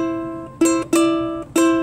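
Guitar picking part of a song on the bottom strings, a low sustained note punctuated by three sharp, close plucked attacks that ring out bright and clear.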